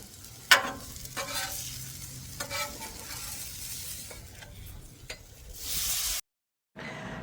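Chopped onions and hamburger meat sizzle steadily on a Blackstone griddle, with a continuous hiss and sharp scraping stirs, then a brief silent gap before the frying resumes.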